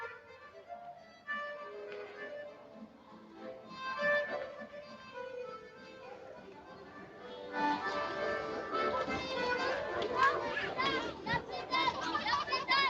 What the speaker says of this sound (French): il y a des enfants qui jouent avec l'eau et le sable.